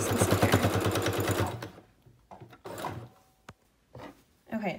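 A sewing machine stitches bias tape onto a cotton face mask in a fast, loud burst of rhythmic needle pulses, then stops, followed by fabric handling, clicks and a voice speaking.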